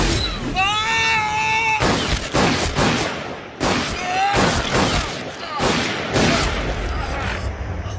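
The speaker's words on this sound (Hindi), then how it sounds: "किसने गोली चलाई है?" A few sharp, loud cracks like gunshots stand out among busy, overlapping shouting and agitated voices, with a brief wailing tone early on.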